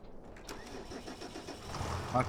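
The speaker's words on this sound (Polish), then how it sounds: "to nasz poczciwy ciągnik, który jest z nami od samego początku." Tractor engine in Farming Simulator 25 cranking and catching, a steady mid-pitched motor rumble building up over a couple of seconds, with speech-like layers and a brief tonal burst near the end.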